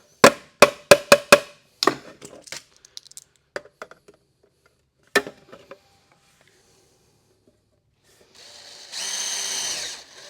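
A quick series of sharp metallic taps and knocks on sheet metal gives way to a short, steady whir of a power drill boring a hole near the end.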